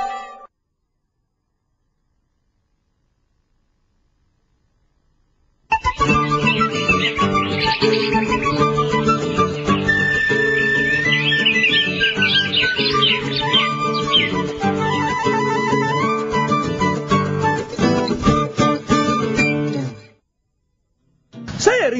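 Songbirds chirping and singing in a dense, continuous burst of varied whistles and trills, loud and close, starting after several seconds of silence and stopping abruptly near the end.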